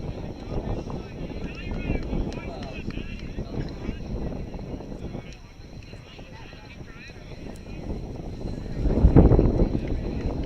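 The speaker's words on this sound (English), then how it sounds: "as you can hear the wind beginning to rise" Wind rises across an outdoor rugby pitch during a Caledonia Cup match between Loyalist and Mudmen, buffeting the microphone in a steady low roar that swells louder near the end, with a voice faintly underneath.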